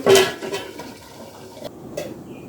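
A lid clanks down onto a cooking pot holding beef trotters and spices, one sharp close metallic knock followed by fainter rattles and a soft scrape, with no talking.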